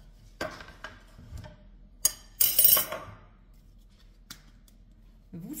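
Onions tipped into a pan for stuffed apples with black pudding, a short rustling clatter with scattered clinks of utensils against cookware before and after, fairly quiet and close.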